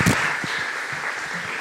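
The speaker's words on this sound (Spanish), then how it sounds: "¿Le da palmas a Él?" A church congregation applauds during a service, a dense, steady wash of many hands clapping together in a reverberant room, with no speech.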